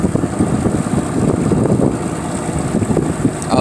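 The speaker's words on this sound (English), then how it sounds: "I was motoring on through the Cove this morning." A motorboat motors through a cove, its engine rumbling steadily close by with heavy wind buffeting the microphone throughout.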